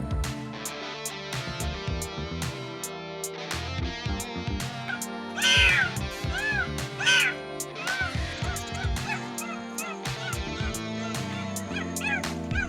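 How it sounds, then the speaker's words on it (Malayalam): A kitten that has fallen into the water of a well at an unoccupied house meows, its plaintive cries rising twice prominently over a busy, layered background that persists throughout. "നോക്കിയപ്പോൾ ഒരു പൂച്ചക്കുഞ്ഞ് ഇതിൽ വെള്ളത്തിൽ ചാടിയിട്ടുണ്ട്."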